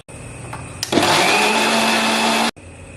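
An electric mixer grinds ginger, garlic and a little water into paste, starting with a sharp click and then roaring in a loud, steady whine for about a second and a half before cutting off abruptly.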